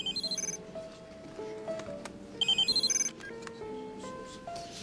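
A telephone rings in two electronic bursts of rapid trilling tones over a background of music, the second burst loud and close after a short pause.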